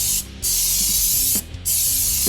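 Aerosol primer spray paint hisses in two sustained bursts separated by a short pause, applied as a light coat for a galaxy background on a Blood Bowl miniature; close and steady, no talking.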